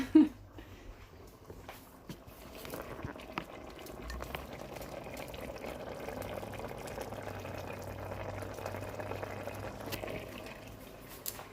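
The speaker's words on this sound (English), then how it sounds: "Now this is really simmering really well." Jambalaya pasta simmers in a pot over medium-high heat, a steady soft bubbling and hiss that holds evenly throughout at close range.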